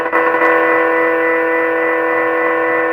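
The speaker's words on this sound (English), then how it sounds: "Hey, that's the sound of my synthesizer." Synthesizer patch playing a loud, sustained chord of stacked steady tones with a slightly brassy, horn-like timbre, holding evenly for the whole stretch with no talk over it.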